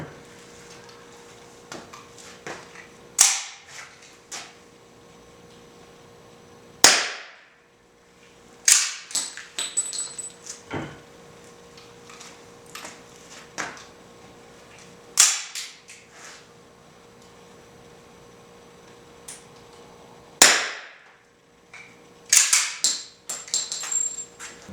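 A gun hip-firing wax bullets in a garage, sharp, loud cracks at irregular intervals, some single and some in quick clusters, with metallic echo and small clatter between shots.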